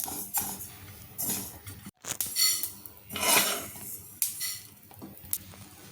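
Fried bitter gourd is moved from a pan onto a plate: a metal spatula repeatedly scrapes and clanks against the pan and dish in uneven bursts, close and fairly loud, with a faint trace of sizzle underneath.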